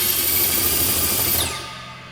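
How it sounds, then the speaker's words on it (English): A cordless drill spins a cymbal during cleaning, making a loud, steady high-pitched motor whine that climbs in speed, then cuts off and winds down near the end. "I do it with my drill, and I can, you'll hear it, watch."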